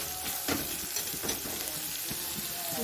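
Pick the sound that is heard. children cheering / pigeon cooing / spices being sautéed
spices being sautéed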